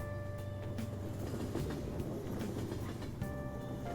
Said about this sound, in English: Now that I'm back on the trains...